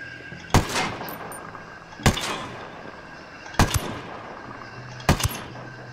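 Gunfire in the video game Ghost Recon Wildlands: four sharp, loud shots spaced about a second and a half apart, each with a short echoing tail, over faint background ambience.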